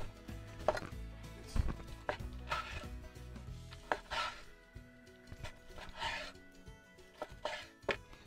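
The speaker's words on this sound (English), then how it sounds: "Then we're gonna chop it into smaller bite-sized pieces." A knife chops chicken into bite-sized pieces on a cutting board in irregular bursts, close and fairly quiet, with scraping and knocking between strikes.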